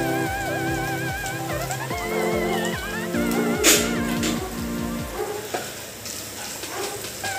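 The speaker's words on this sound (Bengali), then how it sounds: "এগুলো দিয়ে এবার আস্তে আস্তে মশলাটা নেড়ে নেড়ে একটু ভেজে নেব।" Spice masala with coriander and cumin powder frying in a pan, with steady sizzling under repeated scraping stirs and a brief louder clatter midway; background music plays throughout.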